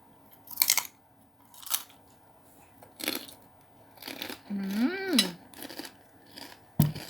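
Someone chews a crunchy spicy three-crisp Thai salad with peanuts, close up, in separate crisp crunching bursts with pauses between, and a short hummed voice partway through.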